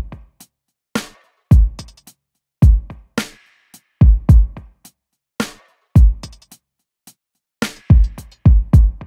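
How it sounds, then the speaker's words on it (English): A deep kick drum processed with delay and reverb, in a groove modeled on a popular song, thumps out a steady pattern under crisp percussion, each hit trailing echoing repeats and a washy tail. "Then I added this kick along with delay and reverb"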